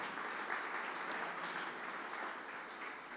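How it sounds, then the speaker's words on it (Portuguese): A church congregation applauds in a steady, distant wash of clapping that holds evenly throughout, faint and diffuse with no talk over it. "Dê um aplauso a Jesus, se você puder."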